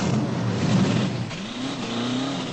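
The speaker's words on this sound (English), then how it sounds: "The roar of the engine, the screech of the tires, the feeling of power that comes from a so-called muscle car." A muscle car engine roars loudly, then revs upward in a rising, sweeping pitch before settling into a sustained growl, heard close and alone.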